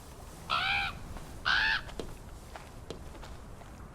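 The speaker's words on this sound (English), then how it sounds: "There are only grey crows here." Hooded crow in the video game Draugen giving two loud, harsh caws about a second apart, followed by faint scattered ticks and footsteps.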